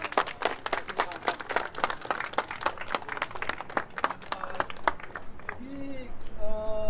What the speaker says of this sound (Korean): 박수를 부탁합니다